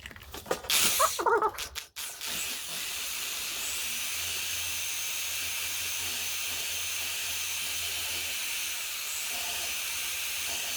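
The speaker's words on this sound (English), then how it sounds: "I got my wire wheel jobby on my drill. I'm just gonna buzz through the hole there" A short burst of clattering noise, then a steady high-pitched whirring buzz of a wire wheel spinning on a drill, cleaning a pitted Volkswagen Super Beetle idler arm.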